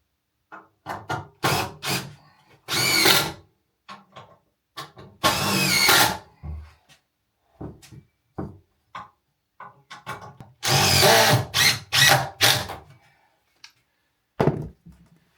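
A power drill drives screws through a rail into a wooden beehive stand, with repeated short whirring bursts and longer runs separated by silences, plus knocks and thunks of handling the timber, close and loud.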